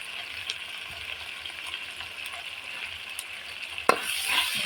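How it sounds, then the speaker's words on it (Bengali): Spice paste of ground onion and masala fries and sizzles in hot oil as it is stirred, a steady close hiss with soft scraping and a sharper clatter near the end, no talking. "এখন এই মশলাগুলোকেও ভালোভাবে তেলের সাথে একটু করে নেড়ে চেড়ে দিতে হবে"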